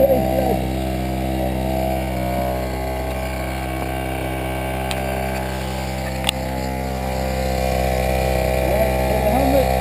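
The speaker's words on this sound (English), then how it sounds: "Idle is extremely high." A small pocket-bike engine on a motorized GT snow racer sled idles very high, a loud constant buzzing drone heard up close, with brief voices and a couple of small clicks over it.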